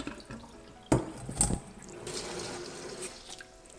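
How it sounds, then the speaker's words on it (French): Rice being washed by hand in a bowl of water for Hainanese chicken rice, with a sharp splash and a brief slosh followed by a soft, steady trickle of water close by. "On commence par laver le riz."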